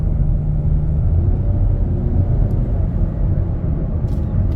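A 2024 Nissan Rogue SUV accelerates into curves, its engine a steady low rumble with road and cabin noise, loud and continuous, no talk.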